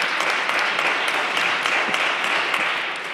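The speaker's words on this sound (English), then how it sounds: "So I definitely want to give a round of applause to you," Loud, sustained applause fills a city council meeting room, a thick wash of clapping from the audience that holds steady throughout, with no talking on top.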